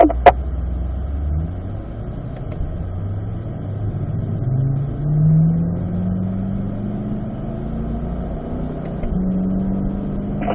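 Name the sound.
car engine accelerating on race track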